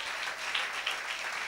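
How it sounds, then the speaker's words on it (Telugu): Worshippers in a Telugu church congregation in Hyderabad clap steadily during praise, a continuous crowd of hand claps with a few sharper accents, heard at moderate level without speech. "ఆయనకు చప్పట్లు కొడుతూ స్తోత్రాలు చెప్దాం."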